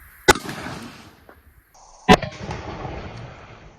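Two sharp, loud gunshots fired at a spall test target, spaced about two seconds apart, each followed by a short rumbling decay outdoors.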